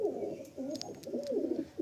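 Close pigeon cooing at a loft: a few low, wavering coos follow one another with short pauses, alone without speech.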